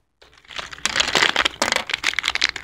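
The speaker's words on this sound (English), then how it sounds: "I'm gonna open that package" A plastic LEGO minifigure blind bag crinkles and crackles up close as it is handled and torn open, busy and continuous.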